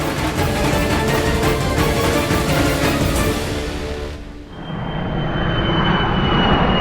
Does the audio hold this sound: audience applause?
no